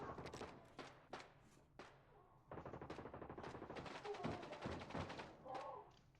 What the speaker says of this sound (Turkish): Çok sağlam çatışma.